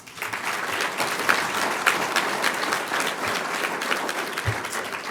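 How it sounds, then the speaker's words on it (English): Sustained, even applause from an audience at a community awards ceremony, dense and moderately loud from start to finish, with no talk over it. "Let's give them an applause"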